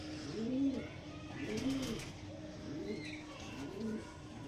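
Black Diamond pigeons coo close by in a repeating rhythm, four clear rolling coos about a second apart over a quiet background with faint chirps.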